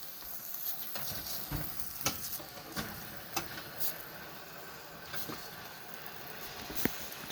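A pot of holiday aroma simmering on a stovetop burner gives off a soft, steady sizzle and faint bubbling, with a few small clicks and taps scattered through it and no talking.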